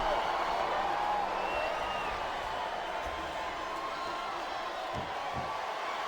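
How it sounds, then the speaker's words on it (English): A steady, distant wrestling crowd roar in the video game WWE SmackDown vs. Raw 2007 hums continuously, a dense murmur without distinct cheers, with a couple of faint thuds near the end. "Sounds like this crowd's got something on their minds, King."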